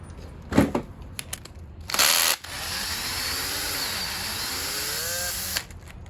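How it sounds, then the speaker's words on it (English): A small power tool whirs in short bursts, then runs steadily with its pitch sliding up and down before cutting off, close by. "Oh yeah, power tool."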